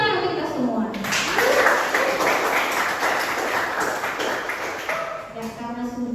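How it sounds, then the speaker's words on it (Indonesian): Students in a chemistry classroom clap their hands together, a burst of applause that fades as a teacher's voice carries over and around it. "tepuk tangan untuk kita semua"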